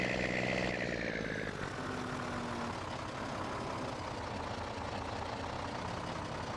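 Truck engine in Farming Simulator running steadily at idle, a continuous low rumble with a higher tone fading early on, even and unbroken with no talk.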